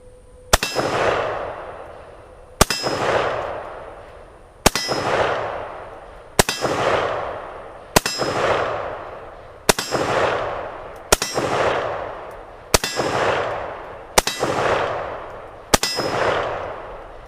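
Refurbished Russian SKS rifle with its action worked over and over: ten sharp metallic clacks at a steady beat about every 1.7 seconds, each one close and loud with a short ringing tail, and no voices.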